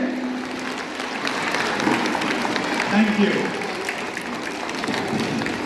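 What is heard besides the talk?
audience applause for all dance performances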